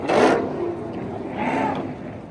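A Dodge Durango Hellcat SRT revs at a busy car meet, a loud, close engine burst followed by a second rising rev, with crowd noise and voices around it.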